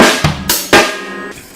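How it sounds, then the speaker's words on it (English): Simple drum kit beat struck alone: a few sharp, bright hits of hi-hat, snare and bass drum spaced a fraction of a second apart, close and loud, each ringing briefly before the next. "it's going to be just a simple hi-hat, snare, bass, hi-hat, and snare again"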